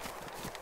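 Cow hooves running in DayZ Standalone, a quick, faint clip-clop of several hoofbeats on the ground in a brief, close burst.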